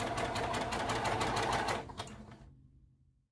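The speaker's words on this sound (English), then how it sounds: "allowing the momentum of the sewing machine to pull it through" A sewing machine runs fast stitching a neckband, a close, continuous rapid mechanical rattle that holds steady for nearly two seconds before slowing and stopping into silence.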